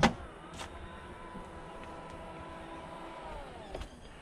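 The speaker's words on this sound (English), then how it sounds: "Electric tailgate on both of these." A powered tailgate on a 2020 BMW X3 M or Jaguar F-PACE SVR runs as a steady motor whine for several seconds, then stops with a soft thud near the end, heard close up with no talking.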